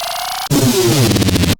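Scary monster sounds built with granular synthesis: a steady buzzing drone gives way abruptly to loud, warbling, growling textures with shifting pitch glides and rapid pulsing, ending in a sudden cutoff.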